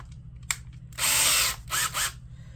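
Short bursts of a power drill whirring, one long run followed by two brief ones, close by against a low background hum.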